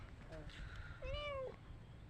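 A cat eating a lizard it has caught gives two short, soft meows, the second longer and rising. The setting is otherwise quiet, with low background noise.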